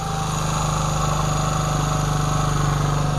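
A 1975 Honda CT90 motorcycle engine with a finicky carburetor idles steadily and close, its even mechanical putter running without a break and with no talk over it.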